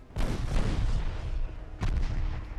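Loud, sustained rumbling blasts of torpedoes detonating against a warship in the naval combat game Ultimate Admiral Dreadnoughts, a heavy roar that swells, dips, then a second sharp explosion hits near the end.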